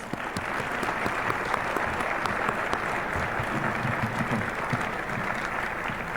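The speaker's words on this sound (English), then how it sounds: "let's give them a round of applause" An audience at a state geography bee finals at a university fills the air with steady, dense applause, a continuous wash of many hands clapping at even loudness throughout, with no voices standing out.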